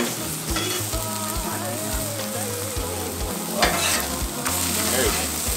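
Thin smash burgers and bread sizzling loudly on a hot grill, a steady close frying hiss with occasional spatula scrapes and stirring clatter throughout.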